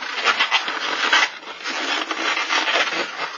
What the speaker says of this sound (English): It's balloons, it's going to be noisy